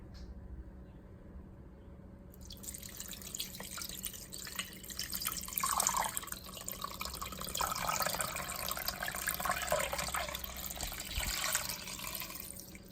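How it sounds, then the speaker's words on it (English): Water is poured into an Instant Pot, starting after a quiet hum with a rushing, splashing stream that hits the metal inner pot and continues steadily to the end, with a person speaking briefly beneath it. "I'm gonna pour water in there."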